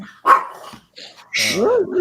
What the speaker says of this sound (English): oh, look at that little puppy